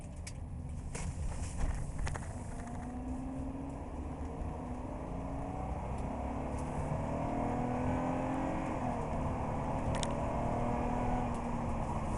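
A 2007 Toyota Camry SE V6 drives on the road, its engine hum rising and falling under steady road and wind noise, heard from inside the cabin, fairly quiet and continuous.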